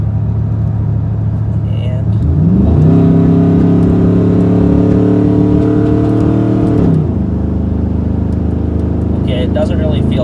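A truck pulls hard on a freeway in the fast lane at about three-quarter throttle; the engine note climbs steadily for several seconds, then drops away, over constant road and cabin rumble.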